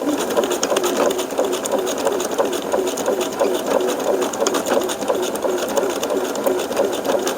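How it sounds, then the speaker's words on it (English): A sewing machine stitches across a fuzzy fabric tail, a steady, close, fast mechanical whir that runs without a break. No one speaks over it. "And then sew across it."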